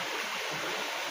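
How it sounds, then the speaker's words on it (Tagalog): Clear forest stream flowing steadily, a constant close wash of running water with no voices. "Ang linaw ng sapa dito mga idol."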